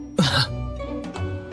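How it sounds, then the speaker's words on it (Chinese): A single weak, throaty cough from someone who is ill, short and close, followed by quiet breathy murmuring. "咳嗽一声，虚弱道"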